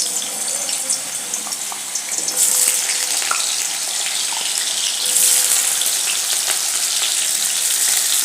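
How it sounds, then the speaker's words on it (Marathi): Potatoes fry in hot oil in a kadhai, crackling and spattering in a dense, constant sizzle with bursts of sharper popping, close and loud throughout, with no voices. "सुरुवातीला हा आपण जो बटाटा घेतलाय तो तेलात थोडा परतून घेणार आहे"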